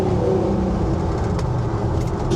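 A Chevrolet C10 truck engine drones loud and steady from inside the cab while driving, a constant rough roar that stays level with no talking.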